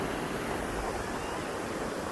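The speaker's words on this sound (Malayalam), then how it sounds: "നല്ല കടലടി കേട്ടോ" Sea waves breaking on a beach, a steady broadband wash of surf with some wind noise, continuous and moderately loud with no voices.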